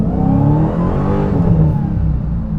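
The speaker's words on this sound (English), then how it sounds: "I just pressed on the gas a little bit hard, and the rear wheels just lost." A 2023 Dodge Challenger Hellcat accelerating hard from about 40 mph, its engine roaring loud and close with a rising, sustained rumble as the rear wheels lose grip.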